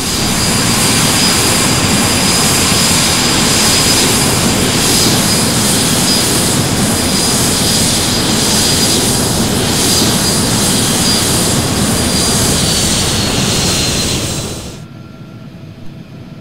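A Cessna Citation II S550 business jet in a flight simulator, taxiing out at Bozeman, Montana: a loud, steady jet engine roar with a high whine holds for about fifteen seconds, then cuts off abruptly.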